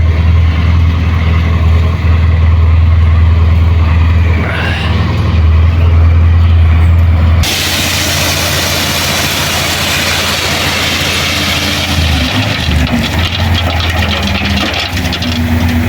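A delivery truck brings a concrete mix load to a building site, its diesel engine idling loud and close with a deep rumble, then a sudden switch to a broader, rougher roar partway through, with no talk.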